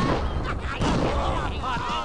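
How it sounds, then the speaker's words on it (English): Shotgun blasts in the retro shooter Redneck Rampage, two or three loud booming shots in quick succession with a dense, echoing rumble between them. "Wow, Jesus Christ, these shotguns."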